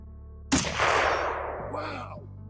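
A single SKS rifle fires with iron sights at a 110-yard target, one sharp, loud crack followed by a long, fading outdoor echo. Another faint noise comes right after.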